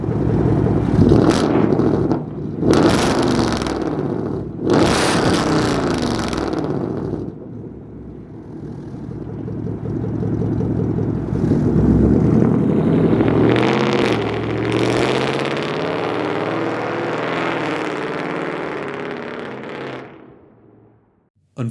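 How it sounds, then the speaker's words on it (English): Ford Mustang exhaust, loud close-up revving with three sharp throttle blips followed by a long rising roar that fades back to idle, alone without talk. "the incredible noise being produced from the exhausts of this fantastic machine"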